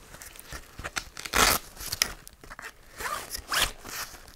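Velcro hook-and-loop fasteners ripped open on a small Direct Action Spitfire add-on backpack, where they secure the plastic stiffener panels; several loud, close tearing rips come in quick bursts, with no speech.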